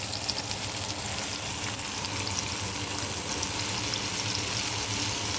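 Salmon fillet frying skin-side down in a hot pan, a steady dense sizzle and crackle that runs unbroken and fairly loud, with no talking over it.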